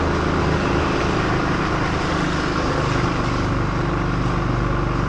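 A steady, even engine hum from a small motorbike ridden on a wet road, wrapped in constant broadband hiss from the wet surface, close and unbroken from start to finish.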